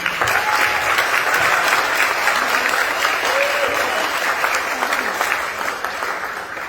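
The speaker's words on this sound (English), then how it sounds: "So give him a round of applause." A group gives a round of applause for Sam at an end-of-year gathering, with dense, sustained clapping that fades slightly toward the end, and voices faintly audible underneath.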